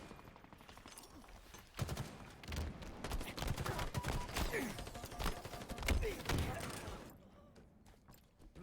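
Assault rifle bursts in Halo Infinite ranked play, a rapid string of gunfire and impacts from about two to seven seconds amid game effects, with players talking over it.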